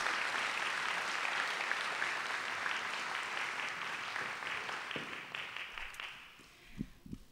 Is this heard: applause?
yes